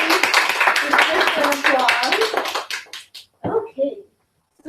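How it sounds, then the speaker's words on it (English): An audience at a hosted live event claps in a dense burst of applause mixed with cheering voices, then it thins into scattered claps and falls silent. "let's give her a big round of applause"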